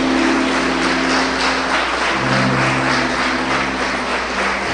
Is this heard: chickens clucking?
no